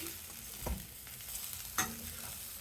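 Stuffed brinjal with sesame and garlic spice powder is stirred in a frying pan, with two scraping knocks of the spoon against the pan over a soft steady sizzle.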